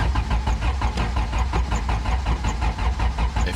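A car with a very weak battery cranks repeatedly while trying to start, a rapid rhythmic churning of the starter with the engine not catching, close and fairly loud.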